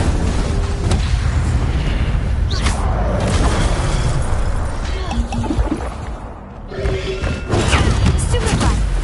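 An Incendio fire spell cast in Hogwarts Legacy, heard as loud booming, crackling bursts that roll on continuously, with a brief dip before surging again.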